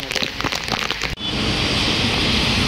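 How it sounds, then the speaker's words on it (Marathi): Heavy rain pouring on a road during a pilgrims' walk, a dense steady roar of rain that becomes louder and more continuous after a brief break, with no talk. "भरपूर पाऊस चालू झालेला आहे."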